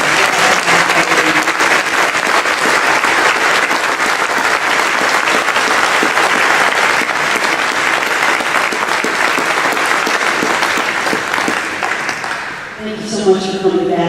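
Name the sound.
audience applause at hall of fame ceremony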